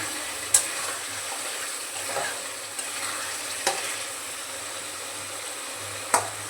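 A spiced curry oil mixture bubbles and sizzles steadily in a pan on the stove for a fish egg curry, a continuous close hiss broken by a few sharp pops or spoon taps.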